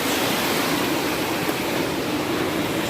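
A flooded Nepali khola swollen by continuous rain rushes loudly and close by, a constant broadband roar of turbulent water with no voices.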